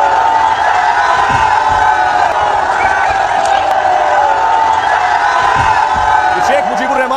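A frenzied crowd topples the statue of Sheikh Mujibur Rahman in Bangladesh, a dense, loud roar of shouting and cheering voices with whoops rising above the continuous din, close and unbroken throughout.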